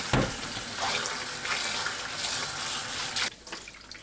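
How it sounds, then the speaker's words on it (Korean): Sliced ginger rinsed under cold running water from a tap, a loud continuous splashing gush that cuts off near the end, with no talking. "5분 후 찬물로 헹굽니다."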